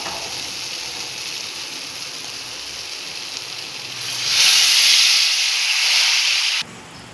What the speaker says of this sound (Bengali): তার মধ্যে ফুটানো গরম জল দিয়ে দিয়েছি